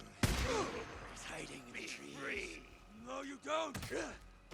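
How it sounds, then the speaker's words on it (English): Residue bolts fired at ripper enemies in the video game Days Gone, a few sharp gunfire-like bursts and thuds over a busy combat mix with creature screeches and voices. "I will fire off a residue bolt every now and again when the action looks like it's starting to die down a bit."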